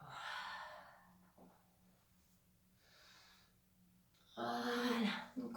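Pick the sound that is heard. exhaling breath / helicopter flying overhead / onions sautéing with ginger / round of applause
exhaling breath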